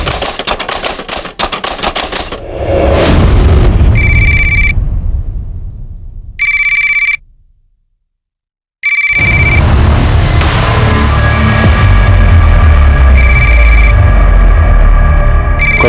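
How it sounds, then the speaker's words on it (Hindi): A telephone rings in repeated short electronic bursts, loud and close, with a brief silent gap midway before the ringing resumes over busy background noise. "कब से फोन बज रहा है"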